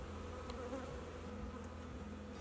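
Honey bees buzz steadily around an open beehive with frames being moved between a nuc box and a brood box, a dense continuous hum close by with no talking.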